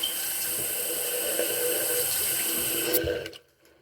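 Steady rush of tap water running into a sink while Invisalign aligners are rinsed, close and even, cutting off abruptly near the end to near silence.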